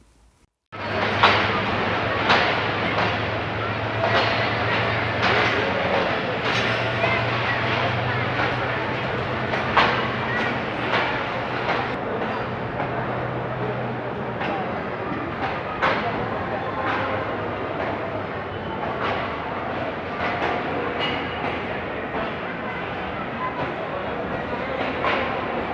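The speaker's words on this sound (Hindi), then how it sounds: "दोस्तों ये ट्रेन अभी आकर उतरी" A train pulls into Lahore railway station, heard from the footbridge above as a steady, loud rumble with rail clatter and a low droning hum, along with background voices throughout.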